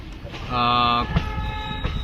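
A Kakinada Town to Lingampalli passenger train passes through a station, sounding one loud, sustained horn blast for about half a second over the low rumble of rolling wagons.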